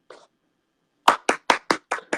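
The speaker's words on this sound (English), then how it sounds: "Round of applause." A single person claps six times in a quick, even rhythm, sharp and close, after a faint short sound and a pause of silence.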